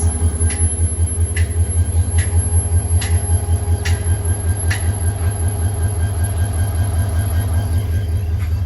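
The Meghna Express, hauled by locomotive 2937, rumbles along on the rails with a loud, steady low drone and rhythmic wheel clatter, plus sharp periodic clicks over the joints.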